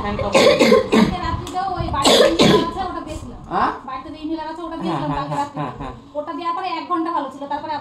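A person with a persistent allergic cough, dry and without phlegm, gives several harsh, close coughs in quick bursts, mixed with throat sounds and a brief voice.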